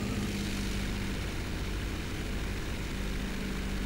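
World War II fighter aircraft with propeller engines in the War Thunder combat game, a continuous loud droning roar that holds steady with no speech over it.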